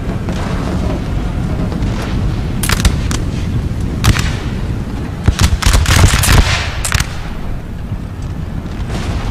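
Musket volleys in Empire: Total War crack out in scattered clusters over a constant loud battlefield rumble, a dense burst of overlapping shots building near the middle before thinning out.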